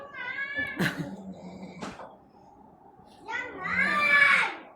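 A cat in a home gives two drawn-out meows, one at the start and a louder, longer one near the end. Short knocks and faint background sounds fall between them.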